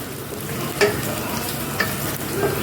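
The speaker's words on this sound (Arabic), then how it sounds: "اهو شايفين البصل خلاص قربت تحمر معايا" Onions frying in a pan, a close, steady sizzle with a few light clinks and scrapes of stirring spread through, no talk.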